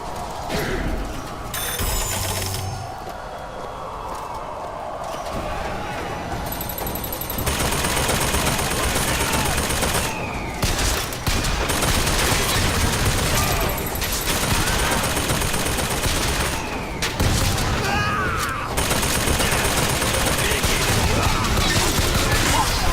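Dense gunfire fills a BioShock Infinite battle against a turret, a steady loud barrage with overlapping shots and mechanical clatter across the whole stretch, with brief dips and a few quieter moments.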